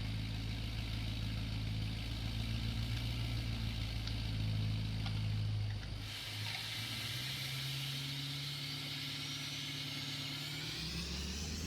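A GMC AT4 pickup truck engine turns over and settles into a steady idle, a continuous low rumble that shifts pitch partway through as the revs drop, close and unbroken.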